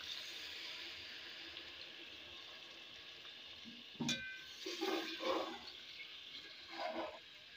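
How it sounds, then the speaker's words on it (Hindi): Half a cup of water is poured into chicken karahi cooking in a pan, giving a sudden splash and sizzle that comes in bursts over a steady background hiss. "अब इसमें आधा कप पानी शामिल कर देंगे।"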